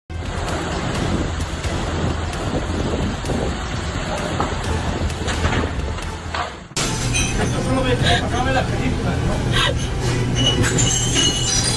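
A loud high-speed train in Japan rumbles and rushes past nearby with rail noise and metallic squeals, the sound shifting abruptly midway; a voice talks over it.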